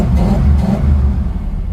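A 1953 Ford Crown Victoria engine runs at a steady low rumble, loud and close, with a deep, even idle.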